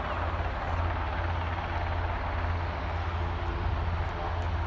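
A Loganair ATR airliner and a Bristol helicopter at Aberdeen airport produce a steady, loud engine drone with a deep low hum that holds constant throughout.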